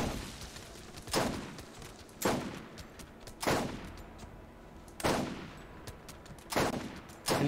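Enemy gunfire in the video game Borderlands: several loud, sharp bursts of shots arriving every second or so, each a broadband crack with a short decaying tail, standing out above a steady low game background with no talk.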